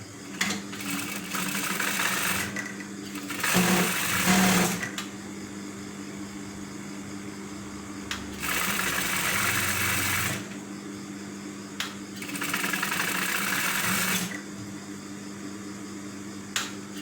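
Several bursts of sewing machine stitching around the edge of a jacket hood, each lasting a few seconds with quiet pauses in between, heard up close and fairly loud.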